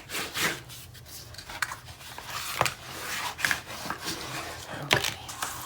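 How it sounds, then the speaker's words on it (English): Paper is burnished on both sides for a winter folio craft project, giving soft scraping and rubbing strokes in irregular bursts, close and fairly quiet, with no speech. "I'm just going to burnish on both sides"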